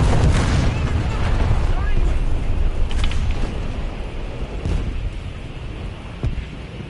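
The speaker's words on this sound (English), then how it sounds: "Look, a bomb." A bomb going off in the tank game War Thunder, giving a heavy rumbling boom that fades over several seconds, with a few sharper cracks and voices talking over it.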